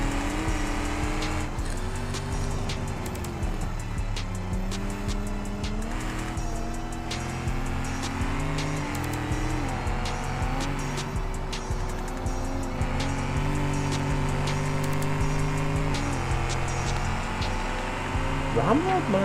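Race cars drive at Lakeside's racing circuit behind a pace car, with a steady engine drone and shifting revs running throughout, occasional tyre squeal, and a voice talking over the top.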